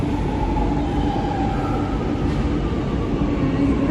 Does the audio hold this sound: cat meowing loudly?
no